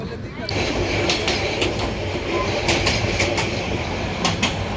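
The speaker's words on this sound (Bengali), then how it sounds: "অন্য একটা ইঞ্জিন লেগে তারপর আবার কক্সবাজার উদ্দেশ্যে ট্রেন চলাচল করে" Passenger train running toward Cox's Bazar after an engine change near Chattogram, loud rhythmic clickety-clack of wheels over rail joints heard from inside the carriage, with faint talk in the background.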